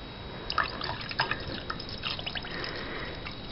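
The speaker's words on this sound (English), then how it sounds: "we're going to add our 12 ounces of water" Water trickles and drips into a container of orange drink mix like Tang, a quiet uneven stream with a few splashy drips, heard alone.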